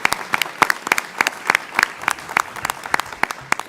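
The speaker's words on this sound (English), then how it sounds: "how about a round of applause for them and all the work that they do" The audience at a school board meeting applauds steadily, individual claps standing out in a quick, uneven patter throughout.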